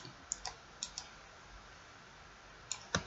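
Scattered key presses on a computer keyboard, typing a search term into a search bar: a few sharp, faint clicks in short bursts with a long quiet pause between them, heard close up in a quiet room.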